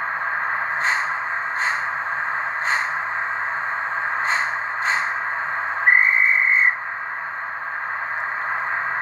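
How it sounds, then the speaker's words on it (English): A sharp dispatch whistle sounds once on a Class 68 ScotRail model train sound system, following a series of rhythmic door-slam clicks over a steady hissing hum, all clear and close. "It's got all the doors slamming, the dispatch whistle, and then the driver acknowledgement before you kick off."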